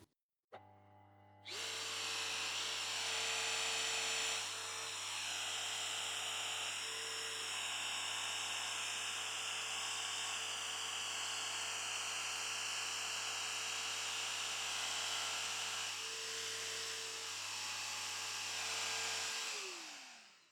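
Grinder cutting the crown on the barrel of a BSA R12 air rifle, a loud, steady high-pitched whine that starts abruptly after a brief click, holds for about eighteen seconds with slight load changes, then cuts off.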